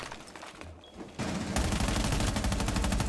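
Gunfire from a weapon in a video game, heard as a brief shot followed by a sustained rapid burst of automatic fire, fairly close and alone.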